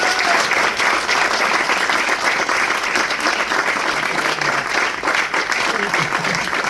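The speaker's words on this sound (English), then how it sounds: "We should give a big round of applause to Peter and the dream team who made it all possible" An audience applauds Peter Cook and the team behind the LEGO Play Pavilion, a dense, steady wash of clapping at full level that continues unbroken throughout.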